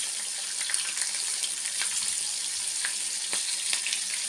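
Fish dusted with flour frying in plenty of oil in a small pan, a steady hissing sizzle with scattered pops and crackles, close and continuous with no talking.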